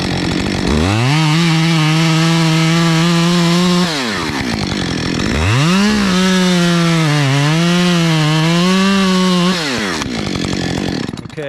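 A chainsaw cuts into a cottonwood tree, loud and close, its engine whining steadily then dropping off at about four seconds before revving back up and bogging as it bites into the wood.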